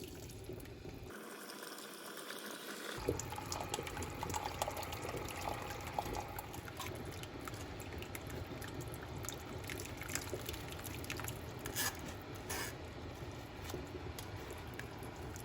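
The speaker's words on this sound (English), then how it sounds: "you're going to put it back into a pan, and you're going to pour it through a strainer" Thick red wine braising sauce pours and trickles steadily through a strainer into a pan, with a continuous wet rushing sound and occasional faint splashes, close by and fairly quiet.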